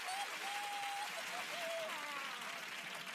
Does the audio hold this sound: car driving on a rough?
no